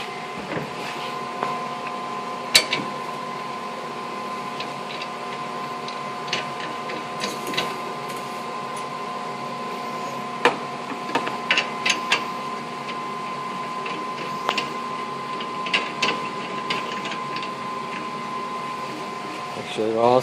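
A small HHO gas generator machine fueling multi-jet stove burners hums steadily with a constant whine and bubbling hiss, punctuated by occasional clicks and ticks throughout.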